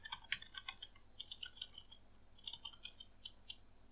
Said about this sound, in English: I'll just type password for that.